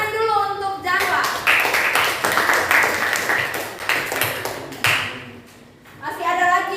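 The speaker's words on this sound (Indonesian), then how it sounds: "Tepuk tangan dulu untuk Januar." A classroom claps for a student named Januar, a burst of many hands clapping together that rises after a voice, runs several seconds, then fades as a voice returns.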